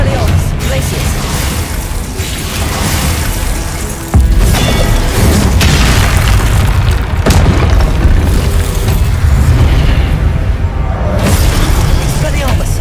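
Repeated Confringo blasting-spell explosions from a Harry Potter video game, loud booming bursts that run continuously, with a sharp jump in intensity partway through and a dense wash of game effects throughout.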